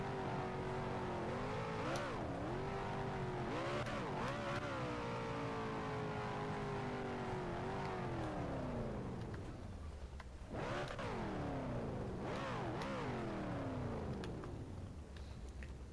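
Off-road rock crawler trucks in BeamNG.Drive revving at a mud pit, engine pitch climbing and dropping in repeated throttle swells, steady and fairly loud with no talk.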